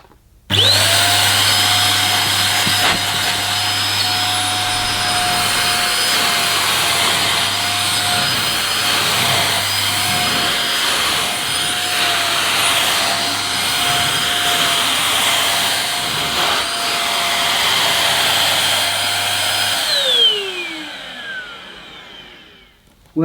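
A Goblin Essentials corded stick vacuum runs on plush carpet with a loud, steady motor whine and airflow roar for about twenty seconds, then its pitch falls as it switches off and spins down.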